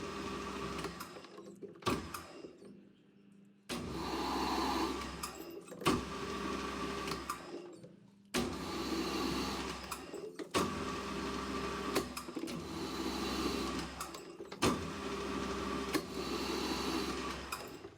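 A machine cuts a thread for a homemade rivet nut tool, running loud and steady in repeated passes of two to four seconds each, with short quiet gaps between them and no talk.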